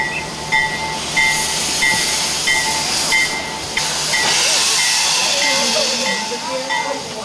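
A train at a locomotive roundhouse hisses loudly with steam, a continuous rushing hiss with some mechanical clanks, while people talk nearby.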